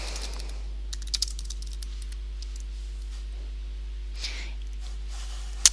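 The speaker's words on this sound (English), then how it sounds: "We can now enter a subject line for our meeting request." Quiet, light typing on a computer keyboard while a subject line for a calendar meeting request is entered, with scattered soft key taps and a few sharper clicks over a low steady hum.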